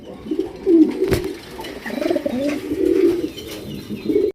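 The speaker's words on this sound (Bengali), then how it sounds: "দেখেন কত সুন্দর একজোড়া অরেঞ্জ কালারের আপনার চিলা কবুতর পাইতেছেন" Orange pigeons coo in low, throaty, rolling calls that repeat through the moment, close and fairly loud, with a short sharp knock in the middle.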